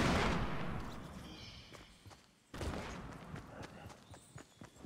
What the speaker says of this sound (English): I'm just throwing grenades.